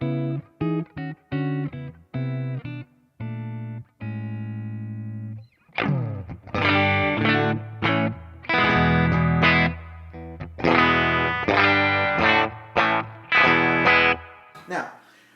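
An electric guitar played on the neck pickup through a Kemper amp profile: sparse, separated clean notes first, then denser, driven chord strums that stop and start in short phrases, loud and without talk.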